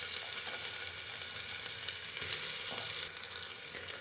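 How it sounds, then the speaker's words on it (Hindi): Onions frying in hot oil for a black chickpea curry, a dense, continuous bright sizzle held close and steady throughout, with faint stirring and no talking. "तो सबसे पहले डाल देते हैं इसमें हम प्याज। तेल अच्छे से गर्म हो गया है"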